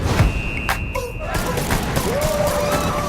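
Gunfire in a film scene, a dense fusillade of thumping shots under continuous background noise with a rising whine, and voices mixed in.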